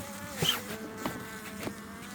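Hungry honeybees buzzing around a hive in an area of heavy agricultural spraying, a close, steady insect drone with a few louder passes as bees fly near.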